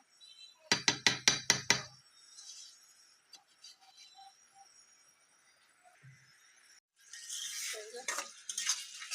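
A wooden stick stirs spices in a cooking pot. A quick run of about six sharp scraping knocks comes first, then faint clinks, then a longer hissing sizzle near the end.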